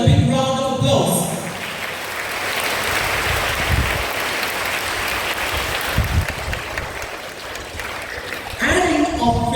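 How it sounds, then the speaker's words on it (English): A school assembly audience gives a big round of applause, a loud, dense wash of many hands clapping that holds steady for several seconds, with speech at the start and end. "Let's give them a big round of applause."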